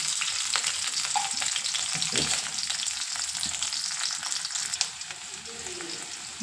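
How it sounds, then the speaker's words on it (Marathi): Garlic and green chilies fry in a pan for dill greens, making a continuous close sizzle and crackle with faint stirring scrapes and no talk. "मस्त लसूण परतलाय मिरची पण आपण टाकले"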